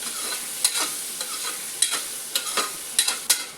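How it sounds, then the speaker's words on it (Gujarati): A spoon stirs vegetables with salt and turmeric in a pressure cooker for masala veg pulao. Scattered scrapes and knocks sound close over a faint, steady sizzle. "હવે આપણે બધી વસ્તુને સારી રીતે મિક્સ કરી દેવાની છે"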